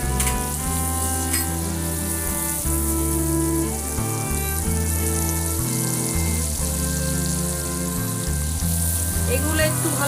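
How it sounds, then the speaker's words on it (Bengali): Onion and panch phoron fry in oil for a Bengali crab and taro curry, a bright sizzle with occasional stirring that runs steadily over a tonal, music-like background. "এগুলো একটু ভালো করে ভেজে নেব।"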